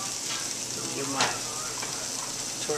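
Steady close sizzle of a tortilla and shredded cabbage heating in a hot pan, a continuous bright hiss with a faint scrape of stirring partway through.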